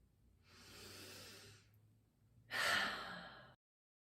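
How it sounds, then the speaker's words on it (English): Two slow, deep breaths, a long airy inhale followed by a sharper, louder exhale, close to the microphone during a singing lesson with no talking. "Try breathing in and out a few times with your hands where your lungs are"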